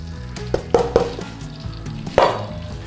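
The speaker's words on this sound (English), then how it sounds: "we want to do is cook our spices. So in with our curry powder," Curry powder for a Chinese takeaway curry paste cooking in hot oil, a close sizzle punctuated by a few sharp spoon knocks and scrapes against the pan, no speech.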